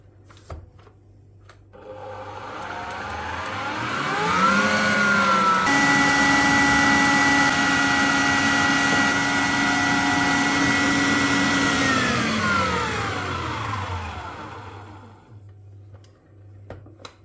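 An electric mixer beats four room-temperature eggs with sugar until creamy, its motor whirring up to a steady loud drone for about ten seconds before winding down, with clicks at start and end.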